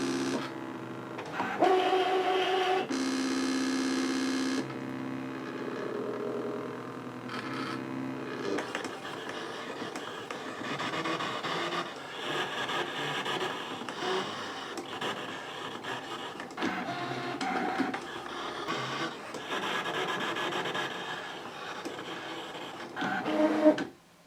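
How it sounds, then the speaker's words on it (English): Brother ScanNCut DX cutting machine slicing printed paper on a sticky mat, a steady whirring motor with repeated carriage moves and scraping passes, fairly quiet and continuous, ending in a brief louder clunk. "once it's recognized the marks, it'll start cutting."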